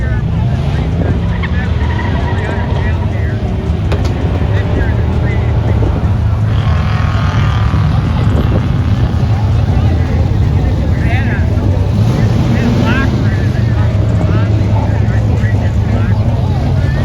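A turbocharged 6.0 GMC Sierra truck engine runs steadily with a loud, continuous low rumble and wind buffeting throughout, while a person talks over it.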